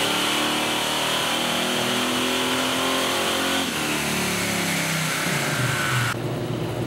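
An LS-powered Camaro revs hard on a dyno, its engine note climbing steadily through the gears, loud and sustained, before cutting off abruptly near the end.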